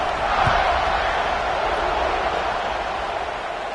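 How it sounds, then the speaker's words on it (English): Broad, steady roar of a football stadium crowd buzzing after a score, a dense wash of many voices at a constant level with no single clear voice standing out. "this crowd is buzzing after that last score"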